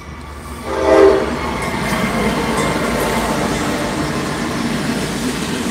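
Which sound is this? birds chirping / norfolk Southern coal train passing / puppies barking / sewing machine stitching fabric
norfolk Southern coal train passing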